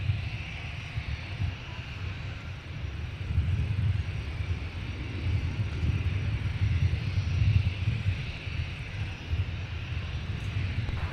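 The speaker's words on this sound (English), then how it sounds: "So there is our United 787-10 Dreamliner." A United Boeing 787-10 Dreamliner taxiing at Minneapolis–St. Paul airport gives off a steady, low jet-engine rumble with a high whine above it, heard from a moderate distance, with light wind noise and no talk.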